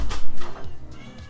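A house cat meows several times in short, close, fairly loud bursts with no talk over it.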